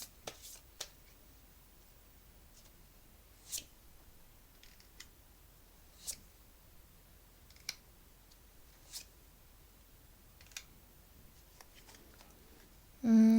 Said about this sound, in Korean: 우선은 끝사랑이 들어오는 시기는 언제인지 카드 뽑아볼게요